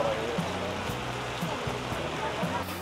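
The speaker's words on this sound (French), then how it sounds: "Et là, il pleut vraiment fort, hein, on est bloqué" Heavy rain pouring down on a Bangkok street at night, a constant broad hiss of downpour with low rumbling sounds underneath, loud and unbroken for the whole stretch.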